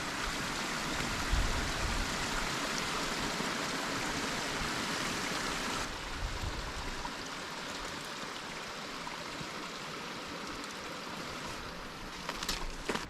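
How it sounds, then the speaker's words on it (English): A stream at a trail water crossing in Yosemite gives a steady, broadband rush of flowing water, constant and fairly close throughout with no voices. "All right, first little water crossing right here."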